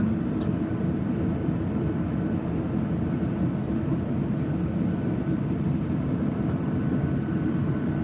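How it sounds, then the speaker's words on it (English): WestJet airliner's propellers running on the ground during de-icing on a windy, slushy day, a steady broad droning roar close by that holds evenly throughout with no talk. "Those propellers are on."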